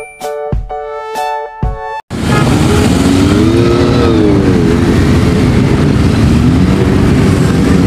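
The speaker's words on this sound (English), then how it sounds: "Motor." Loud, close motor engine roaring steadily for several seconds with a rising and falling pitch, following a short plucked musical jingle at the start.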